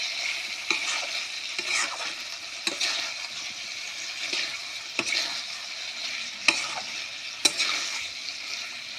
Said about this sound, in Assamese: বিলাহীটো ইয়াৰ লগতে ভাজি দিম এতিয়া অলপ দেৰি